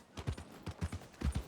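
Hooves of a horse in Red Dead Redemption 2 clip-clopping in an uneven walking rhythm, soft, low thuds in quick pairs, fairly quiet and close.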